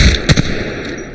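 Gunfire in Apex Legends, a short burst of loud, close shots in quick succession with no talk over it.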